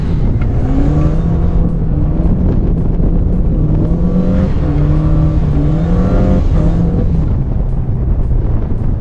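A Fiat 1500 engine drones loudly and steadily with rising and falling revs while driving on sand, its rough exhaust note continuous throughout, close and with no voices.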